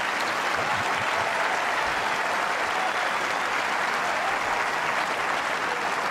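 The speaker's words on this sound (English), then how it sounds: "A big applause." Big, sustained applause from the Wimbledon crowd after a point in an invitation doubles match on a tennis court, dense and loud throughout with no let-up.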